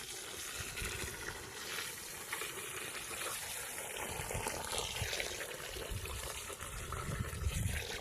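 Water pours steadily into a pan of chicken pepper dry curry, trickling and gushing at a constant level for the whole stretch, with no voices.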